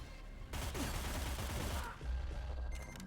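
Video game gunfire from Cyber Knights: Flashpoint, a dense, continuous burst of shots with rumbling low impacts that runs steadily for about three seconds, briefly dipping near the two-second mark before carrying on.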